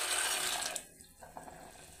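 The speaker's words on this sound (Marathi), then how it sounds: "तर आता हे गरम लाडवे मी याच्यामध्ये गरम पाण्यामध्ये घालून घेणार आहे" Hot laddu dumplings dropped into hot boiling water, giving a steady watery hiss and bubbling that dips briefly and then resumes with light splashy clatter, close and moderately loud with no talk.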